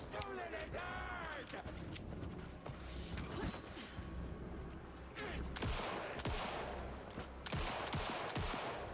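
Gunfire from a video game trailer: rapid bursts of shots and clanking mechanical sounds mixed with creaks and impacts under a busy soundtrack, with some voices in the mix.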